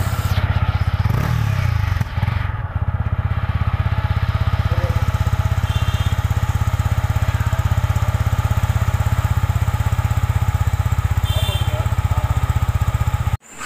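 A Yamaha R15 v3 motorcycle engine starts and then holds a loud, steady exhaust note for several seconds at close range before cutting off abruptly.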